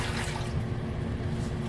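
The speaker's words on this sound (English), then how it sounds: "I'm going to go ahead and put in my warmed water" Warmed water, about one and a half cups, pours into a bowl for fresh-milled chocolate almond bread dough, a steady, soft splashing stream in a kitchen with no talking.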